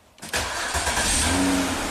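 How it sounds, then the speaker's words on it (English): A 2006 Ford Freestyle engine cranks briefly and fires up, then settles into a steady, close, loud idle for the rest of the clip. "This car should start from here."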